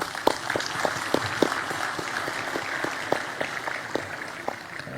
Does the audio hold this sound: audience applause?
yes